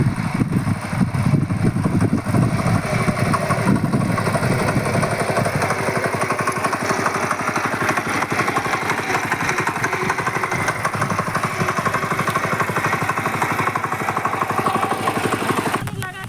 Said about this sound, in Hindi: तो दोस्तों ट्रैक्टर को स्टार्ट कर लिया है